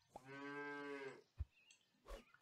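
A cartoonish cow moos once, long and steady, in the game Super Auto Pets, followed by a few short soft thuds and clicks from the game.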